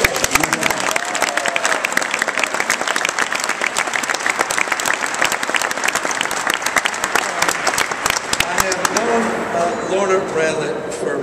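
Dense audience applause at a mayoral swearing-in ceremony rolls on loudly and steadily for several seconds, thinning out near the end as voices come through.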